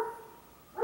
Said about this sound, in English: that dog is barking like crazy outside